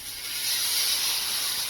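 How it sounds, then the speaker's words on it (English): A steak sizzles loudly in a smoking-hot cast iron skillet, giving a steady, close, unbroken hiss that fills the whole moment without any voices. "And listen to that thing sizzle."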